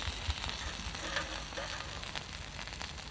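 Glass cracks and pops in hot embers left from an abandoned campfire among dry grass and leaves, heard as a steady, close sizzling crackle with scattered sharper ticks and no talking.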